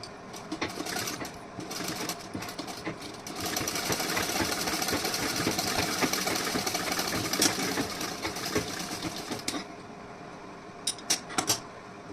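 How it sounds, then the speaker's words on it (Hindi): A sewing machine stitches a designer neckline, its motor running in a fast continuous whir that intensifies midway, then stops, leaving a few short mechanical clicks near the end. "यहाँ पे भी मैं स्टिचिंग कर रही हूँ"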